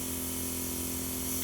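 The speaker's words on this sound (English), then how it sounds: "Normally the air should be able to come out like this." Air hisses steadily out of an airbrush tip in one continuous, fairly loud spray, with a low mechanical hum sitting underneath.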